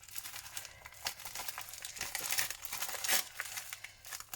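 Plastic packaging from an AliExpress parcel crinkles and tears close by in steady bursts, crisp rustling with a few sharper rips and no talking.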